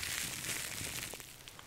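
Steady, dense crinkling of scrunched plastic, close and continuous with small sharp crackles throughout, no voices.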